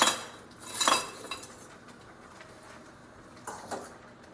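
A whisk stirs instant Jell-O lemon pudding mix into rice in a bowl, giving a couple of quick metallic scraping bursts near the start and again near the end, with quieter clinks between and no voices.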